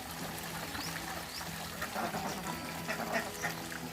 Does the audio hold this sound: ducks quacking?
yes